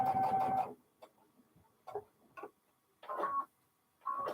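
A sewing machine runs in short bursts, stitching a quarter-inch seam around a fabric coaster with batting inside. Each brief mechanical run is close and stops between bursts, with near-silence in the pauses.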